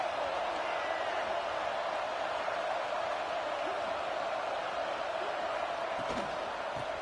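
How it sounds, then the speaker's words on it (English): A college football stadium crowd at a Michigan at Oklahoma game fills the air with a continuous, dense roar of cheering that holds at a steady level throughout. "Listen to the crowd energy here in the early going."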